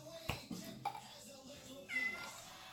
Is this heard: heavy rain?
no